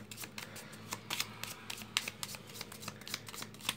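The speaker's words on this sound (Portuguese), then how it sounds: "Então vamos embaralhar para mais essa atividade" A deck of oracle cards is shuffled by hand in quick, uneven bursts of crisp riffling and slapping taps, close and fairly quiet, with no talk.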